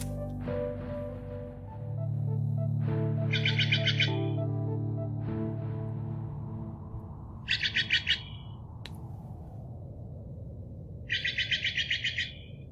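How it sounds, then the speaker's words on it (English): Recorded Steller's jays give three bursts of rapid, harsh chattering calls, played back indoors with no talk, after an opening stretch of steady low-pitched tonal humming. "These are some Stellar Jays. They're the cutest little birds that are super related to blue jays."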